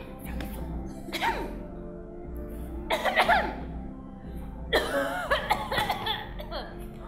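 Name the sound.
coughing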